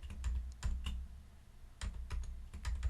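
Computer keys are pressed while editing C code, giving a few soft, close clicks and taps in small clusters against a quiet background.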